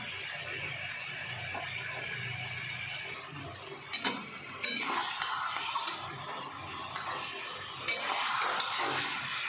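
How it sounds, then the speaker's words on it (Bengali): Broiler chicken meat frying in a pan with spices, a quiet steady sizzle broken by a few sharp clicks and scrapes of stirring, close by with no talk. "মাংসটা আমি আরেকটু ভেজে নেব।"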